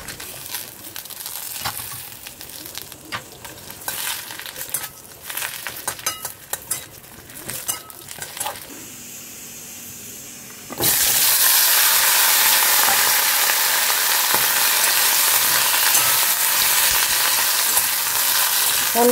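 Papad curry started in a wok: scattered light clinks and kitchen handling sounds at first, then a sudden loud, steady sizzle of frying that carries on to the end.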